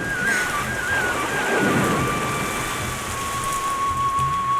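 Rain falls steadily on the ground in a continuous hiss, with a faint thundery rumble and a thin sustained tone running above it.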